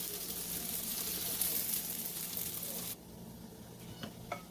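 Mahjouba, a folded semolina flatbread, frying on a hot griddle, a steady loud broadband sizzle that drops abruptly partway through, followed by quieter sizzling with a few light scrapes or taps near the end.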